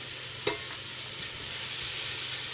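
Eggs fry in a pan for a vegetarian breakfast, giving a steady close-up sizzle and hiss with a single light clink near the start.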